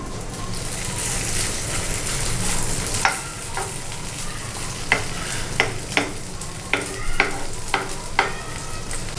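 Hash browns fry in a pan with a steady crackling sizzle throughout, punctuated by several sharp scraping or tapping clicks from a utensil in the later half, close and clear with no talking.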